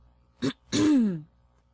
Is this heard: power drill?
no